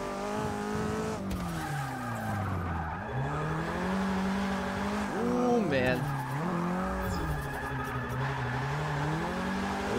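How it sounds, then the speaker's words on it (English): A tuned car drifts in Forza Motorsport 6, played on a Logitech G920 wheel, its engine revving and dropping as the tires squeal through long slides, loud and close across the whole stretch with a voice talking over it. "this car makes drifting out here so much more fun"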